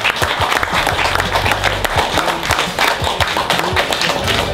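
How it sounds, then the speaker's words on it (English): A big round of applause from a gathered audience honoring their founder at a brotherhood event: loud, close clapping with sharp individual claps standing out, plus some low thumping and a faint voice underneath. "I would like to request everyone to give a big round of applause"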